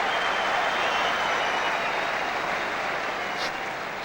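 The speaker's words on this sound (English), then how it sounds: "getting a huge round of applause for his first touch" A large stadium crowd at the 1998 Munich memorial football match between Manchester United and a Rest of the World XI keeps up broad, continuous applause, a dense wash of sound that eases slightly near the end.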